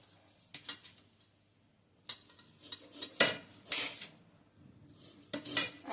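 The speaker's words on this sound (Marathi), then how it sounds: "आता मी ह्याचे सुरीने बारीक बारीक तुकडे करणार आहे" Knife chopping amla (Indian gooseberries) into small pieces on a board, with sharp scattered clicks and knocks in uneven bursts, fairly close and moderately loud, no talking.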